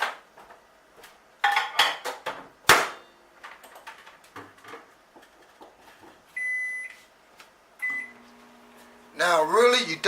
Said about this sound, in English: I'm gonna pop this in the microwave for a few seconds